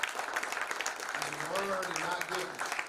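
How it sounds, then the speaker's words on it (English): Applause from a youth football crowd at a 14U national championship media day, a steady patter of clapping throughout with a voice speaking over it partway through. "So y'all clap it up to the 2 top 14U teams in the country."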